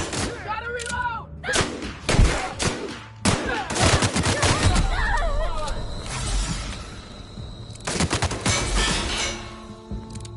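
Repeated gunfire from The Outer World video game, a dense run of sharp shots and bursts, some rapid and overlapping, with a brief pause for reloading, under a player's voice calling out during the fight.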